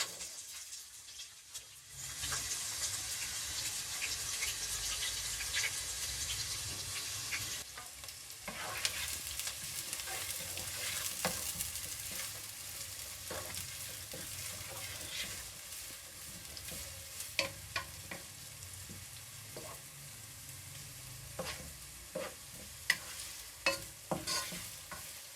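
Onions frying in a little cooking oil in a saucepan give a broad, steady sizzle that starts after a brief quiet moment and continues throughout, with occasional stirring clicks and scrapes, no talking.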